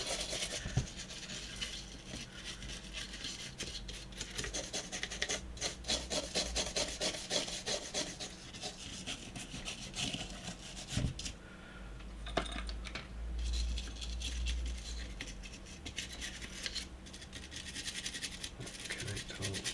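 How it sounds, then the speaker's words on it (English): A toothbrush wet with isopropyl alcohol scrubs a Nintendo 64 circuit board in close, rapid back-and-forth strokes, a steady rasping scrub with brief pauses between passes. "I'm just going to go over the board with toothbrush and isopropyl"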